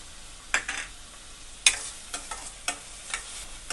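Chopped onions sauté in a pan for paneer butter masala, a soft steady sizzle broken by several sharp spoon scrapes and taps, close-up with no speech.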